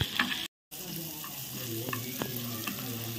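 Red bell pepper and other vegetables are stir-fried in a pan with a steady sizzle, broken by a brief gap and by several sharp scrapes from the spatula.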